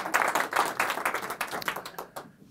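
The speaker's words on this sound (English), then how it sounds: "Give my 3 assistants a big round of applause" A small audience at an underground magic show claps for a magician's three assistants, a brief burst of distinct clapping that thins out and fades within a couple of seconds.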